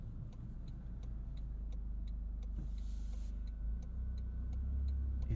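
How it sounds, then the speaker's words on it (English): A car's turn signal ticks in a steady, evenly spaced rhythm over a low engine and road rumble, heard from inside one of several hot hatches: a Civic Type R, GR Corolla or Golf R. "Turn signal sound."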